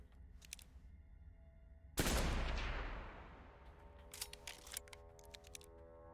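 A single loud, close gunshot in the video game Blood West booms out and rings away over about a second, with a few faint clicks and thuds before and after.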